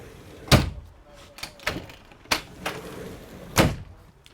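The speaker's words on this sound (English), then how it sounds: "you're going to like this big, giant sliding door." The big sliding door on a Cruisers Cantius 41 cruiser is worked, giving four or five sharp knocks and thuds at uneven intervals, close by and fairly loud against a quiet cabin.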